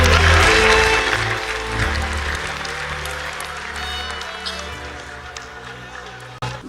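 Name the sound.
congregation applauding at church service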